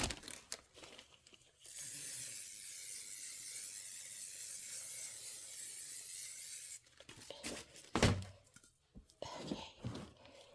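A spray bottle mists fabric quilt blocks for a Kimberbell Hello Sunshine pieced block, producing a sustained hiss of about five seconds after some handling rustle, then crinkly handling noises and brief thumps.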